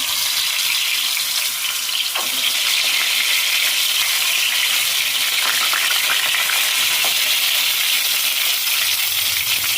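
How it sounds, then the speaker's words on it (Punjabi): Chopped tomatoes dropped into hot oil in a pan, sizzling and frying with a loud, steady hiss throughout and occasional stirring clicks, no voice. "ਆਪਣਾ ਤੇਲ ਗਰਮ ਹੋ ਗਿਆ ਹੁਣ ਆਪਾਂ ਇਹਦੇ ਵਿੱਚ ਟਮਾਟਰ ਪਾ ਦਾਂਗੇ"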